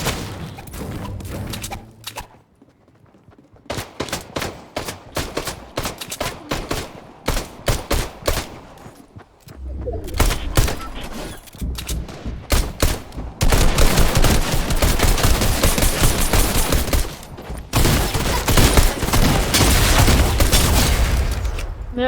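Rapid gunfire bursts and single shots from a battle royale video game fight, loud and dense with automatic fire and thuds, growing heavier and more continuous toward the end.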